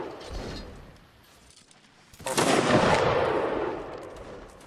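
Cannon artillery fire in the Mount & Blade Napoleonic Wars battle game, with a faint earlier report followed by one loud, nearby boom whose roar rolls on and fades slowly.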